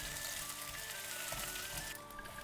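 Garlic and dried squid fry in oil in a clay pot, a steady close crackling sizzle that holds its level throughout with no talk.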